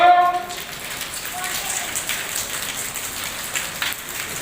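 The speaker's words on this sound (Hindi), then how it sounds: "बारिश शुरू हो गई है।" Steady rain falls in a continuous hiss and patter, fairly loud and close, with a brief tonal sound at the start.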